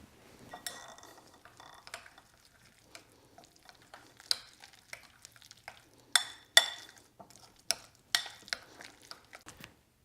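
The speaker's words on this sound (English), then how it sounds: "And we're going to give this a big mix." Spoon scraping and clinking against a bowl while chipotle mayo is mixed with squeezed lemon juice, irregular sharp taps and scrapes, close and fairly quiet.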